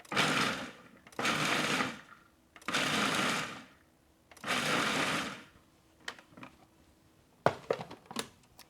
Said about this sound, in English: So we put it in our food processor, just like that, and then we will pulse.